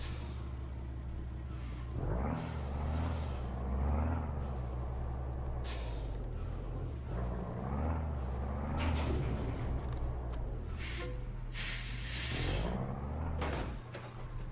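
A Peterbilt truck engine rumbles at a low, steady idle, broken by repeated sharp hisses of air releasing from the brakes, loud and close throughout.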